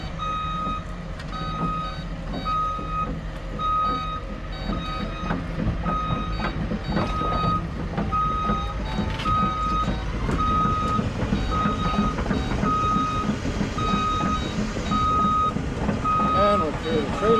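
A truck's reversing alarm at the Port of Baltimore beeps in a steady, regular rhythm over a loud, continuous engine rumble and yard noise as the rig backs off.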